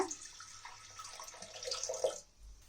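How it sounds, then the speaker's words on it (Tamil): Water poured into a pressure cooker holding washed toor dal, a steady splashing pour with a brief burst near the end before it cuts off, close and fairly quiet with no talk. "அடுத்து பார்த்தீங்கன்னா இதில் தண்ணி சேர்த்திக்கோங்க."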